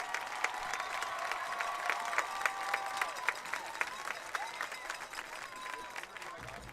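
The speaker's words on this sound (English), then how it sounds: "One more round of applause for our 2023 Canyon Lake High School Homecoming Court" Crowd applause at a Canyon Lake High School homecoming football game for the 2023 homecoming court, steady moderate clapping across the whole stretch with a faint voice carrying over it.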